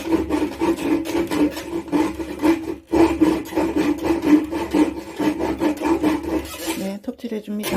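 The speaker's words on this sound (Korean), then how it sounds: "톱질 해줍니다." A hand saw rasps steadily through an old wooden storage box panel along a pre-drilled curve in quick back-and-forth strokes, close and loud, with a brief pause midway and a few clunks at the end.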